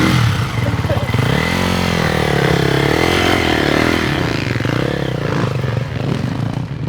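A Triumph dirt bike ridden on a dusty dirt track, its engine a loud, continuous droning roar with shifting pitch as it revs and pulls, close by and dominating the scene throughout.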